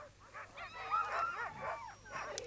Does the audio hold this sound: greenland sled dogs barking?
yes